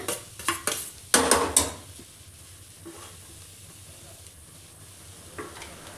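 Grated boiled eggs go into a hot frying pan for an egg keema, with loud metal spoon scrapes and clanks against the pan at first, then a soft steady sizzle underneath.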